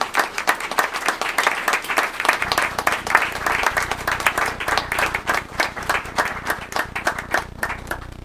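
An audience at a remembrance and reconciliation gathering claps steadily for standing descendants. The crisp, sustained applause sits over a low hum that begins partway through.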